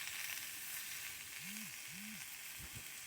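Potato, eggplant and chopped onion fry in oil with a faint, even sizzle and a couple of low knocks near the end.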